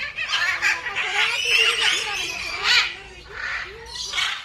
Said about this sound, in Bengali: এখন বিশাল জোরে জোরে আওয়াজ করছে